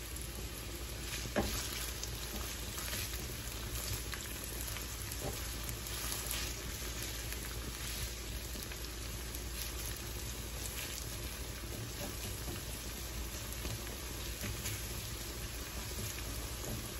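Onions fry in mustard oil over a high flame, making a faint, even, continuous crackling hiss with no stirring or voices.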